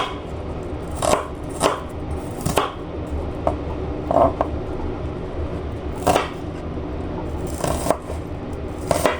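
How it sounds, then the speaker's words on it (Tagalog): Knife chopping peeled onion and garlic into small pieces on a board, irregular sharp close taps spaced about a second apart, with a faint background hum and no talking. "nabalatan na natin yung sibuyas at bawang. Hiwain na natin ng maliliit. Slice natin."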